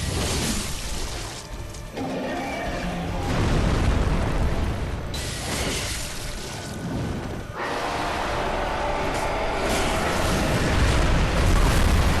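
Repeated booming explosions from a boss attack in Bloodborne, loud and continuous, with several bursts swelling into roaring rumble across the whole stretch.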